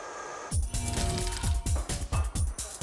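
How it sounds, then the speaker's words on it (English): Repeated metallic grinding and filing strokes on a cast bronze statue made from melted brass faucets, a steady rhythmic series of close, loud scraping bursts with no talk. "He grinds away rough edges, filing and sandblasting the surface until it's identical to the original"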